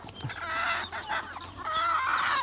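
Chickens and Bengal chickens cluck and chatter continuously at close range on a small farm, several birds overlapping in a steady, busy murmur.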